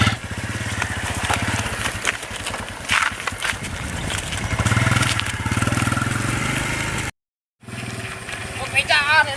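A stalled motorcycle, pushed to get it going, has its engine sputter and run with a rough, rapid putter, close and loud. Excited voices talk over it, with a brief gap of silence near the end.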